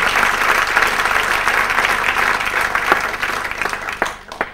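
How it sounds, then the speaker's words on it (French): A live audience applauds at an Andalusian-Latin music concert, loud, dense clapping that thins into a few scattered last claps before cutting to near silence. "Oui, je voulais applaudir."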